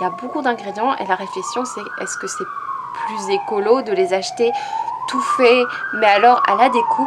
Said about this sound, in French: Je suis désolée pour la sirène, j'habite en ville, c'est pour ça.